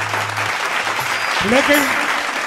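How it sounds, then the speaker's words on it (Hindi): A crowd at a ragini folk performance about Shravan Kumar claps steadily and loudly throughout, with a voice speaking briefly over the applause. "एक बार ऐसे लाडले बेटे के लिए जोरदार तालियां बनते"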